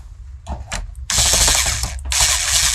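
A ratchet drives a screw into the shell of a Nerf Mega Thunder AIR Hawk blaster modified for HPA, with rapid clicking pawl bursts, close and fairly loud, under a bright mechanical rasp and no talk.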